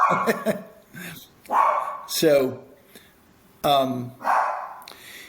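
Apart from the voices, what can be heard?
puppy barking in the background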